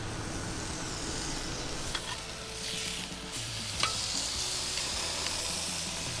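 Flank steak sizzles on an outdoor grill by the Great Lakes shore in Michigan, a steady fizzing frying hiss held at an even level throughout with a few faint clicks and no talking.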